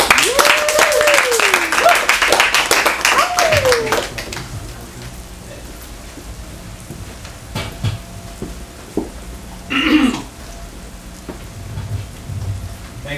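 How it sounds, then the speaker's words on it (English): Applause from a crowd at an evening genre-fiction reading event, a dense burst of clapping in the opening seconds that fades out, followed by sparse sounds and a quieter stretch with a brief voice. "A big round of applause for Lev Grossman."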